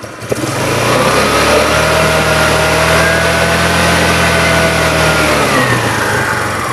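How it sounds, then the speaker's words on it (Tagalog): A scooter engine with an uneven, surging idle revs up loudly and holds a steady high drone for several seconds, then drops back, close and continuous with no talking. "Kapag nag-wild yung motor nyo, ganito yung tunog."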